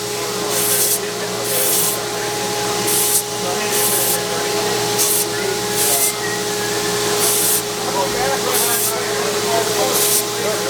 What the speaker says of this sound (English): Rounding the handle with the 80 grit.